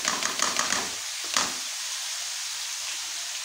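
Boiled rice is stirred into Chinese fried rice in a hot pan, with a few quick scraping, sizzling strokes at the start before settling into a soft, steady hiss.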